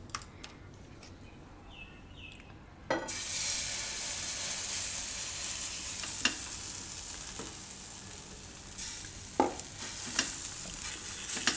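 Corn batter pancake (makai pudla) hits a hot pan: after a quiet start, a sudden loud sizzle breaks out and holds steady, with occasional spatula scrapes and taps over the frying.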